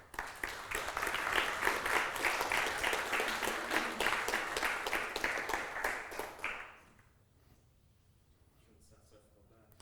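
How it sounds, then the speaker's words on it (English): An audience at a programming conference panel applauds as a guest walks up to take a chair, a full, sustained burst of clapping for about six seconds that then stops abruptly, leaving a quiet room. "the applause should last all the way to the chair"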